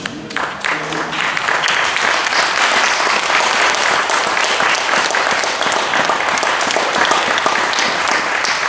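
A church congregation breaks into loud, sustained applause, dense clapping from many people that holds steady for several seconds with occasional voices mixed in.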